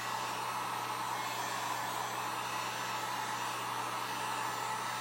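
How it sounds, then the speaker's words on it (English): Hair dryer blowing on a transfer, a steady, close, unbroken whoosh with a low motor hum, no talking. "I'm just drying this so that I can put the other transfer down"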